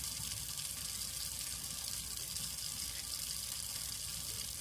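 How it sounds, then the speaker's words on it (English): Liquid is poured into a 1-ounce shot glass up to the half mark while prepping a cleaning solution in a decontamination area. It makes a steady, continuous rush of running liquid with no talking. "So I have a 1 ounce shot glass here. Okay, and I'm gonna go ahead and fill that to the half mark there."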